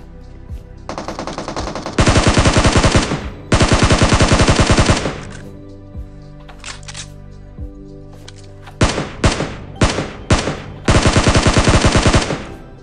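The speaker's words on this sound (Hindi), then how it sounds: "मैं बिल्डिंग के अंदर घुसते ही मुझे बॉट फायर का साउंड आता है" Bot gunfire inside a building in a video game: loud bursts of rapid automatic fire alternating with single sharp shots and short gaps, close and prominent with no talking.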